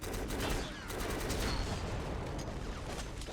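Rifle fire from a 5.56 weapon in the video game BLACK: dense, continuous volleys of shots crackle loudly and without letup for the whole stretch, with no voices over them.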